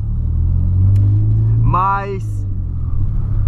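A Volkswagen Polo with high fuel consumption and ignition timing out of adjustment idles with a steady, low engine hum and rumble, while someone speaks briefly over it.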